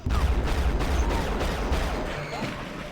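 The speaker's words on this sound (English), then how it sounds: "What was the explosion?" A heavy explosion in the first-person shooter Unreal booms and rumbles with loud low-end weight, breaking into crackling debris that slowly fades over a few seconds.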